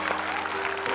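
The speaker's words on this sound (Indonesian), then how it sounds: "Tepuk tangan buat Berta boleh?" A studio audience on the Indonesian dating show Take Me Out Indonesia claps for a contestant, a short, steady wash of applause with a faint voice underneath.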